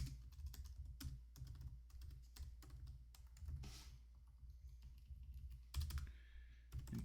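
Fast, uneven clicking of fingers typing Fortran code on a computer keyboard, close and clear, with short pauses between bursts and no voices.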